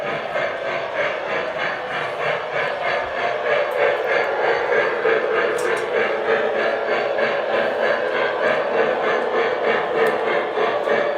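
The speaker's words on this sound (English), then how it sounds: "Run some trains for a little tiny bit." Model train running on a 1:48 scale scrap yard diorama layout, giving a steady, continuous mechanical whir and hum with a fast rhythmic clatter from the track, close and fairly loud, with no talking.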